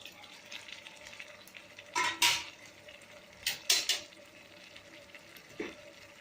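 A lid lifted off a pan of chicken sukka cooking on the stove: a few sharp metallic clinks and scrapes over a quiet, steady sizzle.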